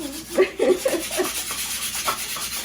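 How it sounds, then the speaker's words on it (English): Burnishing tool rubbed over vinyl lettering on a wooden sign board, a close, quiet, uneven scraping and squeaking that fades into a softer steady rub. "Now we're gonna go ahead and burnish the vinyl right on top of the board."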